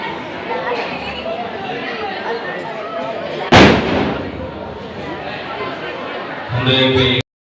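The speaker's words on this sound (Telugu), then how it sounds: "పటాసులు అయితే కాల్చారనమాట, టపాకాయలు" Firecrackers burst on New Year's night at a church: one sharp, loud bang stands out midway through, set against a busy background of crowd chatter and voices, with talking continuing after the burst.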